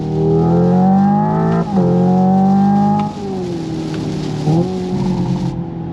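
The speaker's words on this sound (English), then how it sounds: "This is a factory-made electric car's engine sound by speaker." A Hyundai Ioniq 5 N electric car plays a synthetic engine note through its speakers, a loud buzzy tone that climbs steadily, drops at simulated gear shifts and climbs again, with no talking.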